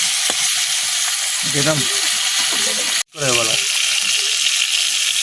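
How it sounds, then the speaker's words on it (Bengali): Rohu fish frying in hot oil as pieces are flipped in the pan, a constant loud sizzle with brief scraping and a sudden cut-off, a voice speaking briefly over it. "মাছগুলো উল্টায় পাল্টায় ভাজিয়ে নিলাম।"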